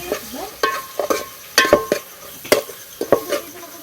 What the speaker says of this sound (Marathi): आता गरम मसाला ॲड करू जरा मसाला चांगला फ्राय झाला आहे बघा मसाल्यावर तेल पण सोडलं